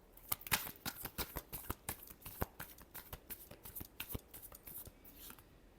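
Tarot cards being shuffled make a quick, irregular patter of crisp snapping flicks, soft and close, with no talking.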